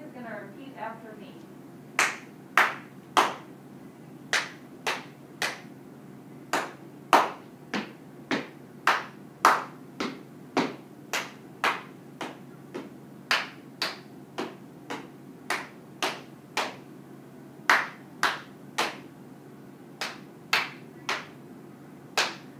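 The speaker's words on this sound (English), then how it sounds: "exciting minute is called echo clapping" Sharp hand claps in short rhythmic groups, one person clapping a pattern and another repeating it back, crisp and close, with faint room tone between bursts.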